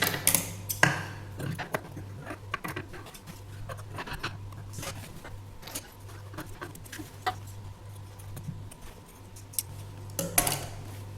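Scissors snip fabric while shaping a neckline design finished with cord, a handful of sharp crisp cuts spaced irregularly over a faint steady hum.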